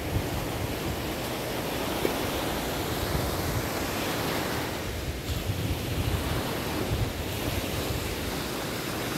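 Ocean waves wash onto a beach in a steady, loud broadband roar of surf, mixed with wind buffeting the microphone, continuous with no voices.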